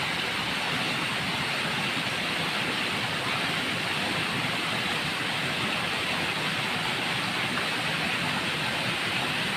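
River current runs over rocks and large boulders in a clear stream, a dense, steady close rush of water that continues without a break and with no voices.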